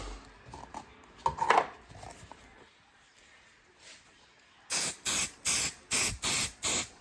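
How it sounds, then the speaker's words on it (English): Six short, loud hissing bursts of temporary fabric adhesive sprayed from an aerosol can in a quick rhythm, after some quiet handling noises and rustling. "I'm gonna spray the back with temporary adhesive"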